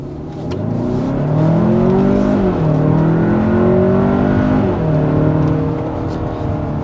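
Steady low engine drone and road rumble heard from inside a 2024 Hyundai Santa Fe Calligraphy at 55 mph, with a few gear-like pitch sweeps rising and falling, continuous and fairly loud.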